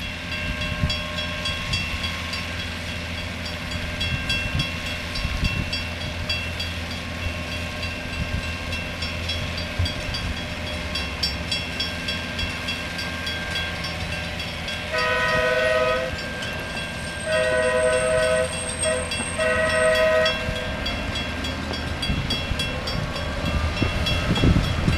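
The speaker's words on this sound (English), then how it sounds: "It's leaving. I missed the train." A train pulls out of the French Lick station with a steady low rumble of rolling cars and faint clatter, while its horn sounds loudly in several long blasts midway through.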